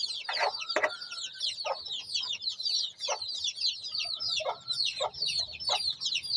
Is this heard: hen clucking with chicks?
yes